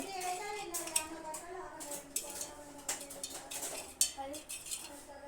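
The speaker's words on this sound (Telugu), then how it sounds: "కానీ చూడండి, నేను మిక్సింగ్ అయితే చేయబోతున్నా." Utensils stir and mix food in a cooking pot, scraping and clinking irregularly against the metal at close range, with occasional sharper clinks and low voices in the background.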